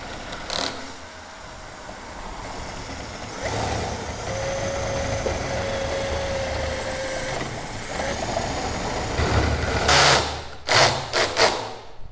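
A power drill whirs steadily with a mechanical buzz, drilling out a threaded rivet insert, its pitch wavering as it works, then a few sharp bursts and knocks near the end.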